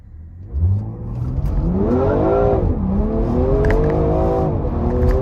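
A tuned BMW E30 with a Mission Performance tune accelerates hard from 0 to 60 with traction control on. The engine note climbs steadily through the gears, loud and close, with a brief dip at a shift.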